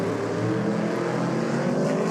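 Drag racing car roaring steadily at the finish line of the NSW Championship drag meet, a loud continuous engine drone with no break across the clip.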